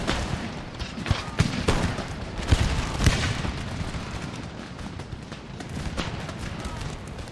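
Musket fire and distant cannon booms crackle through a battle in the strategy game Empire: Total War, scattered irregular shots and rumbles under a player's steady commentary.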